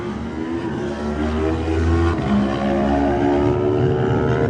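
Kawasaki lightweight race motorcycle at the Isle of Man TT 2018 Lightweight race, the Keeley Heating Kawasaki, its engine droning loud and steady with shifting pitch throughout, no voices over it.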